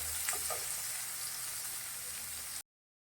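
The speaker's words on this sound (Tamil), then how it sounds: "அதை போட்டுட്டு அதை நல்லா செவக்கிற அளவுக்கு வதக்கணும்." Onions and green chillies sauté in a pan with a soft, even sizzle that runs steadily, then cuts off abruptly before the end.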